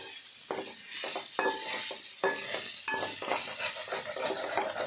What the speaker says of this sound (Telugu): ఈ మసాలా అంతా ఈ చికెన్కి బాగా పట్టేటట్టు కలుపుకోవాలి